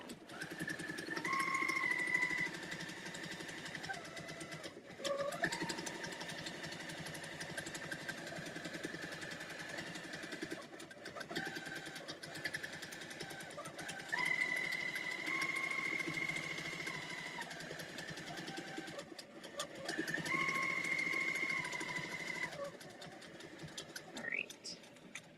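A sewing machine with a stitch regulator hums steadily while a quilt block is stitched, its motor drone rising and falling in pitch across long passes, with a brief pause now and then.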